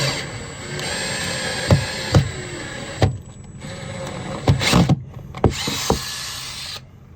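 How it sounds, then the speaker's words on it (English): Close-up whine of an electric drill boring holes in a catamaran hull, running in bursts, broken by several sharp knocks and clunks, with the motor stopping and restarting. "let's drill some holes in this thing"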